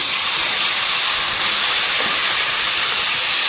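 Green banana (kachkola) pieces fry with salt in a pan, giving a loud, close, unbroken sizzling hiss with no pauses or voices.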